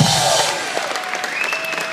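Applause from a live concert crowd at The Plaza Live in Orlando, with scattered individual claps and whistles, starting loud and thinning slightly as it goes on.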